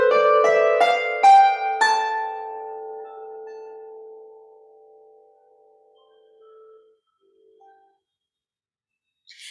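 Harmonica plays a short tune in A Aeolian natural minor, several quick bright notes up front, then one long held note fading gradually to near silence, with a faint trailing note near the end.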